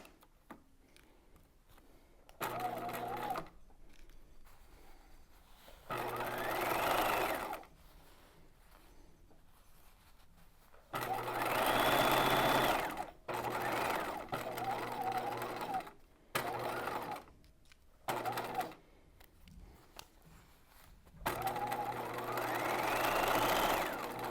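A sewing machine stitches a bodice, running in several separate bursts of rapid mechanical whirring with quiet pauses between them, including short backstitching runs, close and clear.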